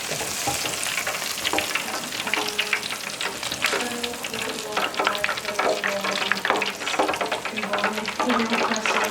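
Shrimp and scallops crisping in a hot pan, with a loud, dense sizzle and crackle broken by frequent stirring clatters and scrapes, close up throughout.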